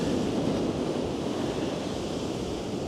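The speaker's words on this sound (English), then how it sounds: "that's what a pretty high tide looks like in Blackpool" Sea waves at high tide along the Blackpool Promenade roar as a steady, loud wash of surf mixed with wind noise on the microphone, with no talking.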